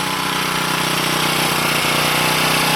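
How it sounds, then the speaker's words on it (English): A log splitter's small gasoline engine running steadily, a loud, continuous close-up drone with a rapid even pulse and no talking. "I'm going to let the engine run until it's out of gas."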